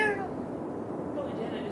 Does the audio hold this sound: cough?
no